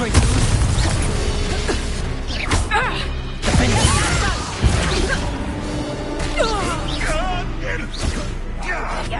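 Confringo blasting curse explosions in Hogwarts Legacy, a spell-combat video game: repeated loud booms and crashes with whooshing bursts, layered with game sound effects and some voice, filling the span.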